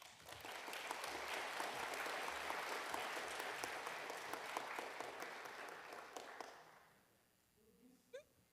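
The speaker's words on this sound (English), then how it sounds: "Please join me in giving a very warm applause to our young speakers in this session" Warm audience applause for young speakers closing a youth session at an Internet Governance Forum pre-event in Kyoto, a dense steady wash of clapping that fades out near the end, followed by a few faint stray sounds.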